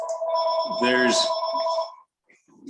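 A telephone rings loudly indoors for about two seconds, its steady electronic bell tone interrupted by a short burst of nearby speech partway through.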